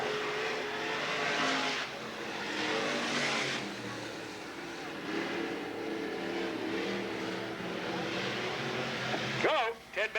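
Stock cars in the first heat race at Riverside Speedway in Cottage Grove, 1993, give off a steady, moderately distant engine roar that rises and falls as they circle the track, with a sharper burst near the end.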